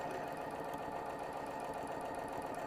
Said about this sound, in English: And I'm backstitching at the pin.